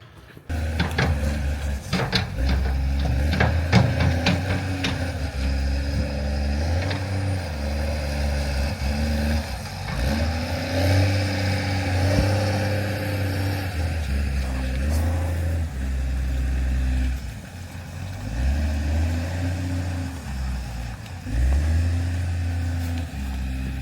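A New Holland wheel loader's diesel engine runs steadily nearby, a loud continuous low rumble with rising and falling revs and occasional clanks, no talking.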